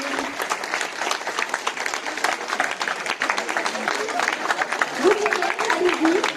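An audience applauds loudly for a slate of political candidates at a list presentation, dense sustained clapping filling the room with a voice speaking over it near the end.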